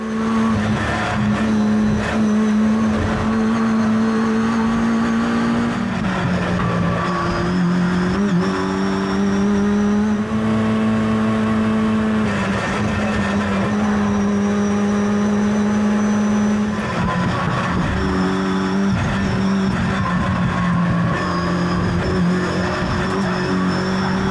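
A Mitjet race car driven hard over the bumps at the Pergusa circuit, its engine droning loud and close through shifting revs and gear changes, with a rattling chassis and whine throughout.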